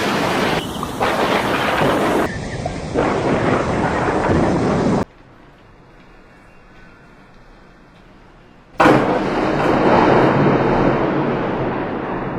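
Thunder from lightning striking a light pole twelve times in a row: loud broadband rumbling bursts with a quieter gap in the middle, then another loud crash that lingers.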